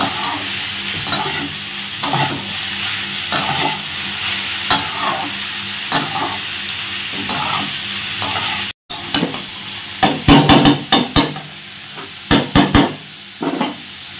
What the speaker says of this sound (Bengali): এরপর আমি এটা ভালো করে তেলে ভেজে নেব আলু আর বেগুনের সাথে।